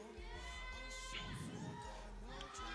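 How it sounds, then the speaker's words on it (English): A youth service crowd cheering and shouting for a participant named Jeffrey, a dense steady roar of voices with children's shouts and whoops rising over it throughout, fairly loud and close. "Come on, you guys, cheer him on."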